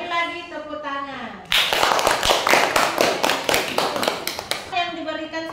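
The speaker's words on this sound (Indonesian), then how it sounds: "Kita beri lagi tepuk tangan." A classroom audience applauds a student group's presentation with a burst of brisk, many-handed clapping lasting a few seconds, framed by a teacher talking before and after.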